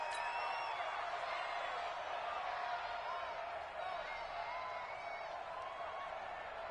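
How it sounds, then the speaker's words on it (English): Video game football crowd in Madden NFL 20 during a Rams versus Bears game, a steady roaring wash of cheering with faint whoops rising out of it, continuous and fairly distant. "Listen to this crowd now."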